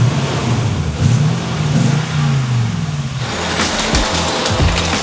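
A Toyota Tundra truck engine revs loudly and close by, rising and falling in pitch, then changes character partway through with sharper bursts and throttle blips.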